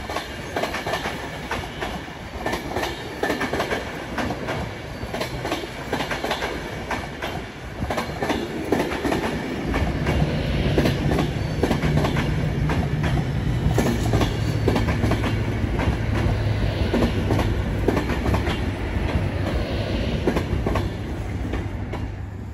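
Class 390 electric train 390 049 running through Crewe station on the West Coast Main Line, with a steady loud rumble and rapid clickety-clack of wheels over rail joints, close by, and a low motor tone rising midway, without speech.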